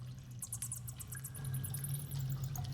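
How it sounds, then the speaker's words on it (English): Cave ambience: a steady low hum and watery trickling with scattered high drips, continuous and moderately quiet, no voices. "Just kind of moaning sounds and water dripping and that kind of music."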